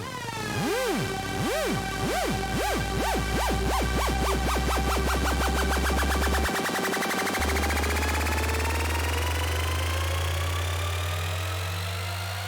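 Electronic dance build-up on a Dominator synth with LFO wobble and a sub riser, pulsing faster and faster into a dense roaring buzz over a deep sustained sub that rises in pitch, loud and continuous with no talk.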